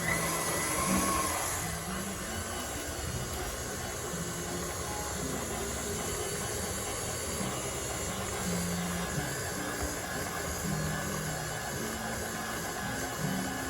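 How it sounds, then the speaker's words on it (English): Electric stand mixer churning king cake dough at a slow speed, a steady continuous motor whir with a low rumbling drone that holds evenly throughout, with no talking over it. "Start out kind of slow so you don't fling it everywhere. We're going to mix it really good together until the dough starts to form."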